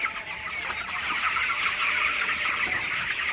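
Twenty-one-day-old broiler chickens on a poultry farm at night keep up a steady, close chorus of soft clucks and murmurs, with no one talking.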